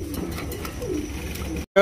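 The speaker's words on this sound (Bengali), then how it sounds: "একজোড়া ডান কালারের লক্ষা কবুতর" A pair of dun Lakkha pigeons coo softly at close range, a low rolling murmur lasting under two seconds before cutting off.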